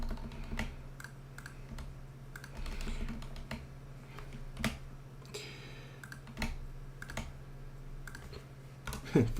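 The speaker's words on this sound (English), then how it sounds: "a little aggressive keyboard" Sharp, uneven clacks of fast, heavy typing on a computer keyboard, with sporadic louder key strikes over a low hum.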